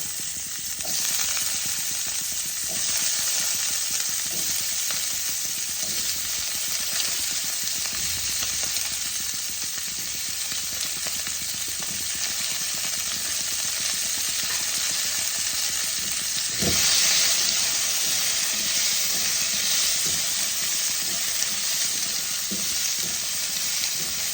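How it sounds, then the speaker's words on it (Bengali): Cauliflower, carrots and beans fry together in hot oil, giving a steady, loud, continuous sizzle with occasional stirring scrapes and a brief louder clatter partway through. "এবার আমি ফুলকপি, গাজর আর বিনসগুলোকে একসাথে ভেজে নেব।"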